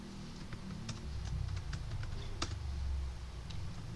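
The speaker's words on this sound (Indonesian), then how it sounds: "Di sini saya akan mengetik laporan" Fingers type on a computer keyboard to enter an outgoing-mail report into an Excel workbook, with scattered light key clicks in an uneven rhythm over a steady low hum.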